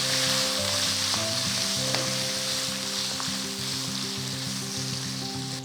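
Small sambar onions fry in hot oil with a loud, constant sizzle for idli sambar. Steady background music plays throughout underneath the sizzle.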